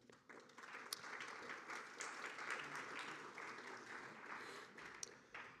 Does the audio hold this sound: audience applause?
yes